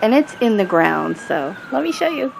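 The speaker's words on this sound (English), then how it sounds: "sorry about the sirens" An emergency vehicle siren holds a faint, steady, distant tone behind a garden, while a person talks over it throughout.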